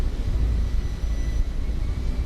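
An airliner on short final into Vágar in the Faroe Islands in Microsoft Flight Simulator, a steady, fairly loud engine roar with a low rumble throughout.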